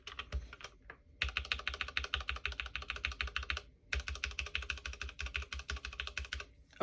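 Rapid typing on a keyboard with spray-lubed Cherry MX Brown switches, a dense stream of close, muted clacks in bursts separated by two brief pauses.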